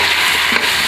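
Pork with lai greens sizzles steadily in a hot wok, a dense close frying hiss with faint stirring scrapes throughout, no voices.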